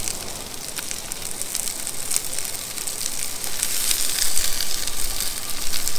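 Asparagus sizzling in a pan while cooking outdoors in nature, a steady crackling hiss with fine popping that grows slightly louder, no voices.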